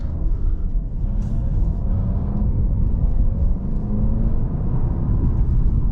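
A stock 2021 Alfa Romeo Giulia engine pulls hard under acceleration, giving a steady, close, loud rumble with rising drone tones and no turbo whistle. The sound runs unbroken with no talking.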